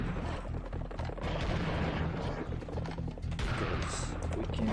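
Rapid gunfire blasts from the video game Serious Sam Fusion, a dense volley of shotgun-style shots and booms running loud and continuous over a busy game soundscape.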